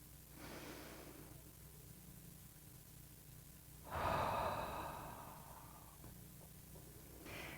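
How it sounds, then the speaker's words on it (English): Two quiet, slow breaths during a calm meditation exercise, a soft inhale early on followed by a fuller, louder exhale midway, close and intimate with no talking. "you can join me in taking a deep breath"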